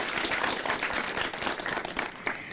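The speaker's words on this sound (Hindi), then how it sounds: "जोरदार तालियां हो जाए हमारे विशेषज्ञों के लिए" Loud, steady clapping from a group of farmers and officials at an agricultural advice gathering, continuous for a couple of seconds with no talk over it.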